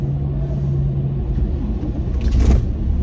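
A steady car engine rumble idles low and close after starting warm, swelling briefly toward the end as if revved, with no voices.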